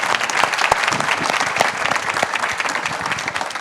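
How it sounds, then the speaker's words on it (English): A conference audience gives a round of applause for the presenters at a resuscitation hot-topics session. Steady, full clapping from many hands runs throughout, close and loud. "Let's have one more round of applause for all of our presenters."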